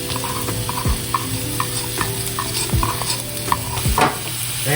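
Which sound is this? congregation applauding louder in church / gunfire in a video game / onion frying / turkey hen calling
onion frying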